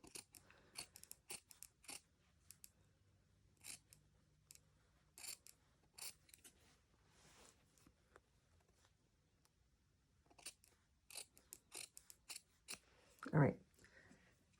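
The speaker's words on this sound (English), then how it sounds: "And then I'm going to cut the hood down a little bit. This is called grading the seam allowances." Scissors snipping through cape hood fabric to grade seam allowances, a series of quiet, crisp cuts in short irregular bursts close by, with a louder snip near the end and soft speech in the room.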